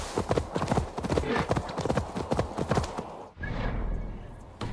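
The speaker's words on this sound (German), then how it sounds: "wenn wir jetzt querfeldein hier reiten" Horse hooves galloping cross-country in the video game Assassin's Creed Valhalla, a rapid, loud clip-clop rhythm that stops abruptly near the end, with a voice speaking over the hoofbeats.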